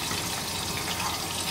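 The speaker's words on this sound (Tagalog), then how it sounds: "ngayon naglagay ako ng tubig" Water is poured into a pan for a sweet and sour fish sauce, a steady hissing splash of liquid running continuously for a moment, with no speech.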